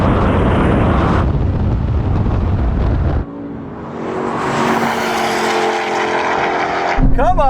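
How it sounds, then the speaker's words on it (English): A Porsche launches hard in a drag race against an Audi, its engine roaring loud and close before the sound drops and a wind-buffeted engine drone carries on. Voices talk over it. "Got a good launch in the Porsche."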